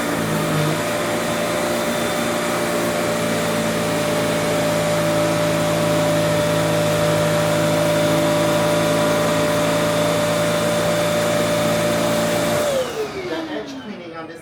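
A Kenmore Elite upright vacuum cleaner runs with a loud, steady motor whine and airflow roar for about twelve seconds, then switches off and winds down to near silence.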